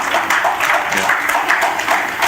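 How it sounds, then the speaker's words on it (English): Conference audience giving a warm round of applause, steady dense clapping from many people throughout, fairly close and even in loudness. "give them a warm applause, please."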